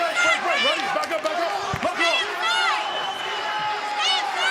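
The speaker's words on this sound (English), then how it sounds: "An eruption from this sold-out Tampa, Florida crowd." A sold-out arena crowd in Tampa, Florida erupts during a Paige VanZant vs. Britain Hart MMA bout, a loud, sustained roar of cheering and hubbub with excited voices rising throughout.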